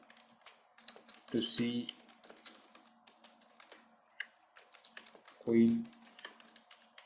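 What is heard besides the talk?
typing a blog post on a keyboard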